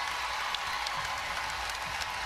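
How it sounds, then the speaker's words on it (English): Arena crowd at an NCAA Women's Elite Eight basketball game between Notre Dame and UConn giving a standing ovation as players check out, a steady dense wash of applause throughout. "there's the ovation for AZ Fudd"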